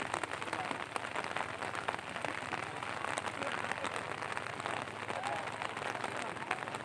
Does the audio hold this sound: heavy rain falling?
yes